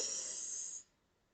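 One deep, slow inhale is drawn in during a guided mindfulness breathing exercise. It is soft and airy and close to the listener, then drops away into near silence.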